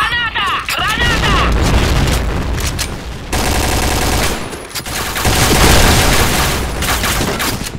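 Rapid gunfire and heavy booms from the shooter game Point Blank, with grenade blasts loud and dense, bursts pausing briefly before resuming, while voices shout over the combat.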